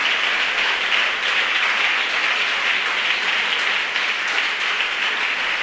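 A church congregation gives loud, steady applause to the Lord during a sermon on Christian education, a dense wash of many hands clapping for several seconds with no voices over it.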